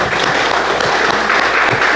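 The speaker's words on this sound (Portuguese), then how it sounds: "vamos dar aquela linda salva de palmas ao Senhor Jesus" A church congregation applauds steadily, a dense, continuous wash of clapping from many hands filling the worship space at an even level throughout.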